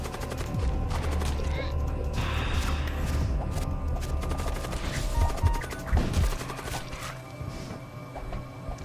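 A Magical Artillery barrage in the game Void War crackles out as rapid rattling bursts of gunfire-like shots, dense and sustained, with heavier thuds and impacts landing near the end.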